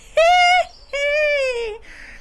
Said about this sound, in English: did not hear the gathering of Krako and his cowardly crows in the surrounding tree branches.